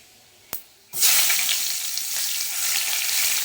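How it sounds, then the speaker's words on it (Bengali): Chopped onions hit hot oil for a doi katla fish curry, bursting into a loud, steady sizzle right after a single sharp clink, with the frying holding on evenly and no voices. "আমি দিয়ে দেবো এই পেঁয়াজ কুচানোটা, তেলের উপরে পেঁয়াজ কুচানোটা দিয়ে দেবো।"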